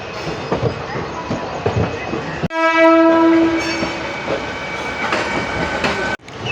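The 13063 Balurghat Express on the move: a steady rolling rumble of the carriages, broken by a loud, sustained horn blast lasting over a second, after which the running noise carries on.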